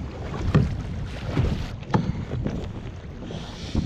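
Kayak out on open water at a kayaking event, with paddle strokes splashing in a loose rhythm every second or so over steady wind buffeting the microphone and a wash of water noise.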